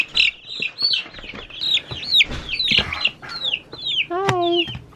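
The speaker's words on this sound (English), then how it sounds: "Happy day, we are moving the chicks." Young chicks peeping loudly and rapidly up close as they are moved, a dense overlapping chorus of high chirps with a brief lower squawk near the end.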